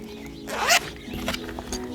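Zipper pulled open on a solar panel case, one quick rising rasp up close followed by softer handling clicks and rustles.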